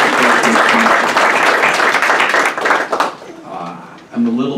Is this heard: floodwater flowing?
no